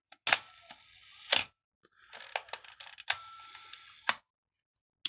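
A 1968 Praktica Super TL 35mm SLR fires its mechanical shutter with no battery fitted: two close, sharp metallic clacks, then a burst of rapid clicks and winding or cocking ratchets, all close and alone, with no talk.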